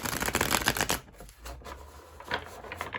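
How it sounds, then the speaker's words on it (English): Oracle cards are double-hand shuffled in a dense burst of riffling for about a second, followed by softer shuffling and card handling up close. "double hand shuffle pretty well"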